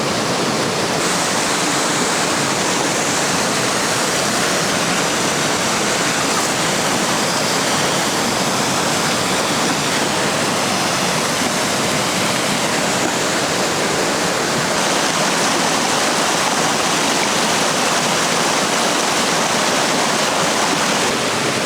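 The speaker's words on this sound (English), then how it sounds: "There's a lot of debris in front of the waterfall." Venford Falls pours steadily, a dense, unbroken broadband rush of falling water close by, with no voices over its constant roar.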